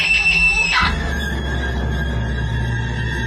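A woman's piercing, high-pitched scream in a Hindi horror story, loud and close, cutting off abruptly after under a second and giving way to a low droning hum.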